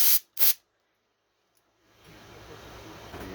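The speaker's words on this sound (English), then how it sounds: "Alright, so I'm going to hit this with some more air. Just right in here. In that pivot block down there." Compressed air sprayed into the pivot block of an Olympia typewriter: two sharp short bursts, then a quiet gap before a steady hiss builds and continues to the end, close and fairly loud.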